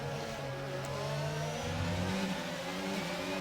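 F1 22 race cars in the Azerbaijan Grand Prix street circuit, engines whining and revving under steady acceleration, with a couple of cars blending together at close range and no voices.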